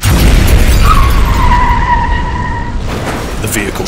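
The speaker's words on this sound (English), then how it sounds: "The vehicle shakes as an explosion sounds." An explosion rocks a stopped truck in a sci-fi action drama: a loud, sustained low rumbling blast with a thin squealing tone riding over it, fading slightly toward the end.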